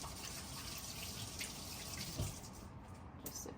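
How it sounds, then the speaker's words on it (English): Water runs steadily from a tap into a sink for a quick rinse, a constant close hiss and splash lasting a few seconds with a brief heavier gush partway through. "Just a quick rinse."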